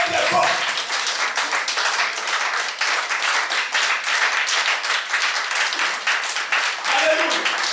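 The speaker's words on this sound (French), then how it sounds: "Acclamez très fort." A church congregation applauding and clapping loudly together during a French-language service, a dense sustained roar of hands with faint voices and cheers at the start and end.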